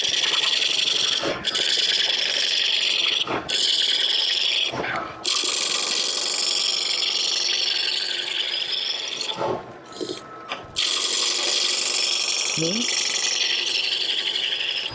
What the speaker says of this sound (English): I'm using a spindle roughing gouge. And I'm just going to round that up.